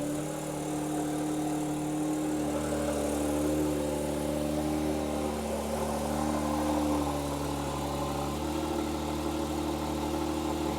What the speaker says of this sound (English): There is that flat 6 come to life. Let's listen to the idle from outside the car.